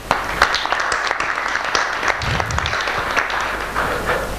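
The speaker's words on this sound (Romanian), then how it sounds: "doamna Katia Naru, și aplauze!" Audience applause at a literary event at the Axis Libri library, a steady wash of clapping from a seated crowd filling the clip without speech.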